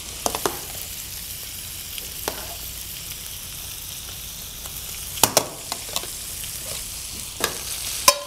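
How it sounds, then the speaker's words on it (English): Salmon and pasta fry together in a pan with a steady, loud sizzle, broken by occasional scraping clinks as the food is stirred. "And as I'm adding the pasta here, I will also add the salmon all together."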